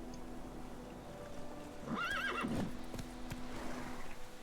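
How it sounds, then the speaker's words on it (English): Sardinilla, a horse in The Witcher 3 video game, lets out a short whinny in the middle of a quiet game soundscape, with a few hoof clops and soft background tones around it and no voices. "Por suerte, en su viaje, Gerardo cuenta con la ayuda de su caballo, Sardinilla"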